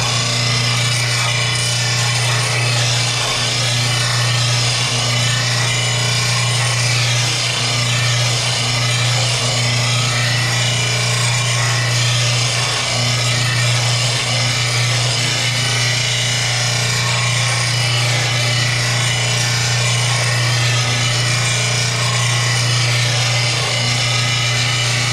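A grinder with a sharpening disc works on zero-turn mower blades for an Emark Quest with a Kawasaki FR651V, a loud steady whine with constant rubbing grind held for the whole stretch, close up, no talking.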